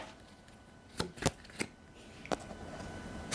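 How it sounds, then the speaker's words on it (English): Tarot cards are shuffled by hand up close, giving a few quick, crisp flicks and riffles spaced irregularly over a quiet background, with no talking. "so now we're going to shuffle for the overall theme of the week"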